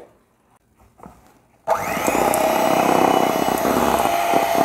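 After a moment of quiet handling, an electric beater starts up abruptly and whirs steadily at close range through marble cake batter, a loud continuous motor drone with a faint scraping edge.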